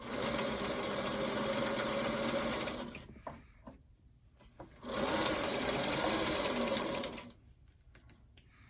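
A sewing machine runs in two steady bursts while chain piecing quilt block pieces, each burst a few seconds of close, even whirring with a quiet pause and faint handling noises between.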